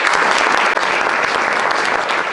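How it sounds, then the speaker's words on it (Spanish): Loud, steady audience applause fills a hall at the San Millán festival opening address at the Centro Riojano de Madrid, welcoming La Rioja's regional culture, tourism, sport and youth minister, sustained throughout without a break. "pido un fuerte aplauso para el consejero de Cultura, Turismo, Deporte y Juventud del Gobierno de La Rioja, don José Luis Pérez Pastor."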